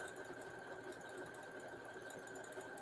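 A sewing machine stitches a thick seam into a fabric postcard, running at a steady, even hum without pause, fairly faint and with no voices.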